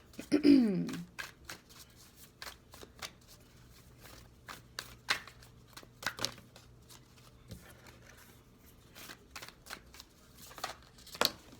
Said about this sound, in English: I love when cards fall out.